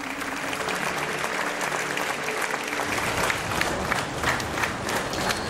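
Sustained, dense applause from a crowd at the State Opera and Ballet Theatre as the late opera singer Zurab Sotkilava is carried out, steady throughout with faint crowd murmur beneath.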